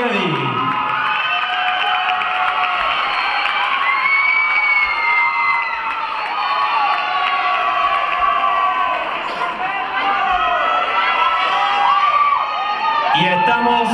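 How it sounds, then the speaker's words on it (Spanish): A dance competition crowd cheers and shouts loudly and continuously for a salsa couple, with whistles and screams rising over a dense roar of applause. "Recibamos con un fuerte aplauso a la pareja Tono Celulete"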